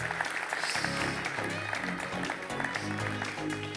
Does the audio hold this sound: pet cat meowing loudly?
no